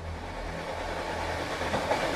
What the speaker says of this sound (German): 120 Stundenkilometer fährt der Zug, als Dagmar Klimek die Toilette verlässt.